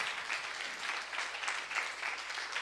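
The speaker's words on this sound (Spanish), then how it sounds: "Dele un aplauso a ellos." An audience gives sustained applause, a dense even wash of many hands clapping at moderate volume throughout, with no voices rising above it.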